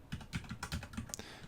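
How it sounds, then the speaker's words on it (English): Typing a terminal command on a computer keyboard, a quick run of close, crisp key clicks in an uneven rhythm, one slightly sharper tap near the end, with no talking. "So we actually have to type sudo"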